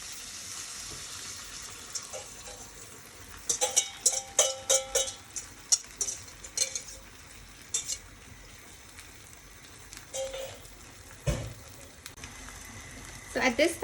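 Eggs going into a hot pan for a keto open-faced egg sandwich, with a soft steady sizzle and scattered crackles and pops, moderately close, plus some clattering of utensils and splashes.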